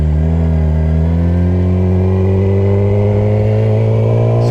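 A Yamaha R6 motorcycle on a ride pulls away, its engine note climbing steadily under acceleration, loud and close with heavy wind buffeting throughout.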